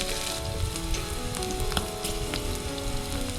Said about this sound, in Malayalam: 2 ഉണക്കമുളക്, വറ്റൽമുളക്, 2 പച്ചമുളക് ഇതെല്ലാം ഇട്ട് നന്നായിട്ടൊന്ന് വഴറ്റണം